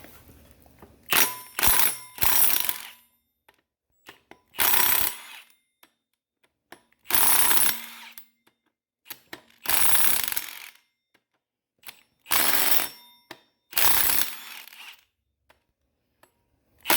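A ratchet with a 17 mm 12-point socket works Loctite-coated bolts loose on a 2001–2005 Honda Civic, coming as about six separate bursts of broadband clicking, each one to two seconds long, close and moderately loud with quiet gaps between.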